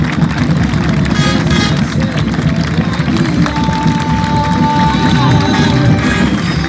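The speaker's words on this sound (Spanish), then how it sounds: "Se escucha fuerte, fuerte el aplauso porque se lo merece" Loud, sustained applause and cheering from a large crowd for Miguel Ángel Ferreira as he arrives at a community event in Arroyito, a dense roar of clapping and voices filling the whole stretch.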